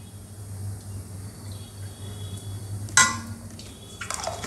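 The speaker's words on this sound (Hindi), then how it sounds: "तो ग्रेवी बनाने के लिए मैं कढ़ाई में ले रही हूँ ये इस चम्मच के, इस बड़े वाले चम्मच के नाप से मैं ले रही हूँ 2 चम्मच ऑयल।" A large spoon measures oil into a kadai (wok) for gravy, with one sharp metallic clink and a brief clatter against the pan over a low background hum, close by and without talk.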